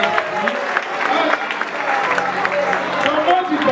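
Children in a church class on sharing the gospel clap together in a steady, close burst of applause that runs the whole time, with voices talking over it.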